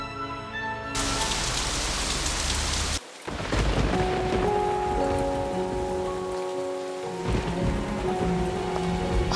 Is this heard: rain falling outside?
yes